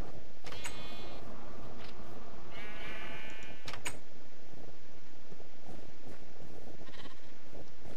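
Baby sheep in a modded survival video game bleat in short, high calls, two distinct bleats early on, over a dense, noisy game background with a few sharp clicks.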